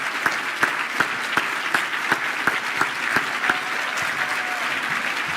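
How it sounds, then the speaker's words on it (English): A gala crowd applauds volunteers and committee members, with steady clapping from many hands and a few sharp, close claps standing out in a regular rhythm throughout. "I want to give these folks a round of applause."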